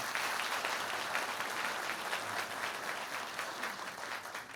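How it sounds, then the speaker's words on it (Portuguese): A church congregation applauds steadily, a dense, even wash of clapping that fills the room throughout with no voices on top. "uma salva de palmas para eles"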